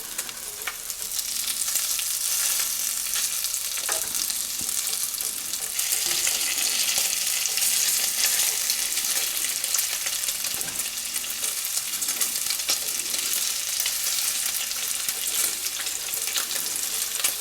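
Bacon frying in a pan, a dense, loud and continuous crackling sizzle that holds steady throughout with only faint scattered pops.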